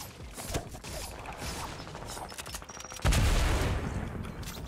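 Heavy AR gunfire in Fortnite: quick rattling shots crackle in the middle stretch, followed by a louder, denser roar of fire or impact in the last part, with mechanical clatter throughout.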